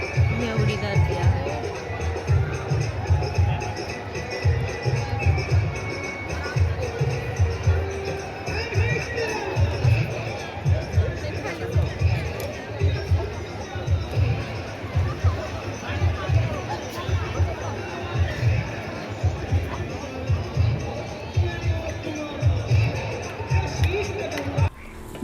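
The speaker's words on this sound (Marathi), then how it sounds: "एवढी गर्दी आहे." A dense crowd of pilgrims fills Omkareshwar temple with continuous, close babble of many voices, underscored by rhythmic low thumps that keep going throughout.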